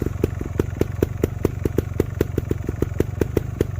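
Dirt motorcycle creeping slowly over a log, its engine thumping at a low, steady idle with evenly spaced putts throughout, close and moderately loud.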